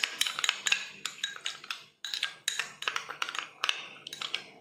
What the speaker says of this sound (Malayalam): ഇതെല്ലാം കൂടി നമുക്കൊന്ന് മിക്സ് ചെയ്തെടുക്കാം